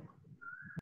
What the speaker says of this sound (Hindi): कोयल की आवाज आ रही है, म्यूट कर लो प्लीज।